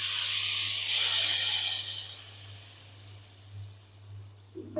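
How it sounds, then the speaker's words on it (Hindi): Hot tadka tempering is poured over dal for dhaba-style dal palak. It bursts into a loud, bright sizzle that fades over a few seconds above a low steady hum. "गरम गरम तड़के को ऐड करेंगे दाल के ऊपर"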